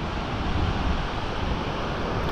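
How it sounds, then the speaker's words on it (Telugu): Cool wind gusts through a hilltop pine forest in Ooty, a steady broadband rush that buffets the microphone close up for a couple of seconds without pause. "గాలి అయితే వస్తుంది, చల్లగా అయితే వస్తుంది గాలి"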